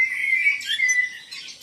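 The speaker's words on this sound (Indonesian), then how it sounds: "Suara burung-burung" Several birds chirp and squawk nonstop in varied, overlapping calls on a cool outdoor morning, fairly close and steady, with no one talking.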